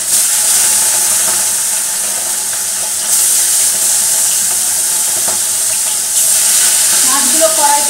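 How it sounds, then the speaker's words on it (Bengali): Fish frying in hot oil in a wok gives a loud, steady hiss of sizzling that runs the whole time, with a few faint clinks toward the end. "আমার মাছের তেল গরম হয়ে গেছে, এবার মাছগুলো দিয়ে দিচ্ছি কড়াইতে।"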